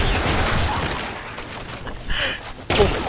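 Gunfire in a shooter video game, a dense run of sharp overlapping shots early, thinning to scattered bursts with a loud crack near the end, under faint background talk.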